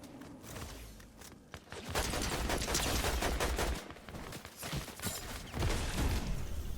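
Gunfire in a shooter video game, with dense bursts of rapid shots that stay loud and close across the clip alongside mechanical clatter and footstep-like movement, with no talk.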